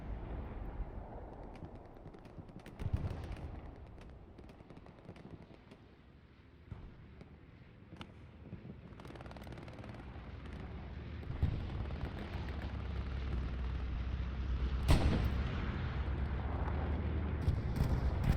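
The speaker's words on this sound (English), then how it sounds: "we're expecting artillery to be coming in at any moment" Distant artillery fire in a World War II combat game on the Utah Beach map, heard as scattered low booms and rumbling impacts over a steady ambient battlefield wash, with one sharper blast near the end.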